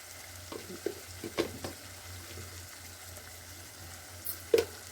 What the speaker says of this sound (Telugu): బాగా కలిపేసి ఇవన్నీ కలిసిన దాకా కలపాలా